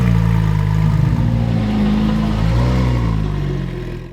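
Subaru WRX engine starting and running at close range, a loud steady mid-pitched rumble with a slight rise in revs before fading away near the end.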